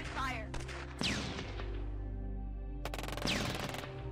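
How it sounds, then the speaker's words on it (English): Gunfire from a tank and light armor battle in the post-apocalyptic strategy game Shadow Empire, heard as several sharp bursts of shots with a sustained rumbling blast in between, loud and close. "Open fire."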